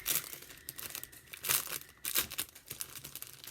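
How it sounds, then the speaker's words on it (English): A plastic bag crinkles and crackles as it is chewed, giving close, repeated rustling bursts in an uneven rhythm with no talking. "Everybody's chewing on the plastic bag"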